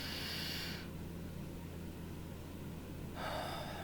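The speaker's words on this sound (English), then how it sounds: "Just take a deep breath." A person takes a deep breath: an airy inhale, a quiet pause, then a long whooshing exhale, close and alone.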